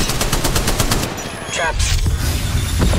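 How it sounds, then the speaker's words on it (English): Rapid gunfire in the mobile shooter Apex Legends Mobile: loud, close bursts of automatic shots crackling in quick succession, with game voice callouts over the firing. "Getting shot at. Opening fire."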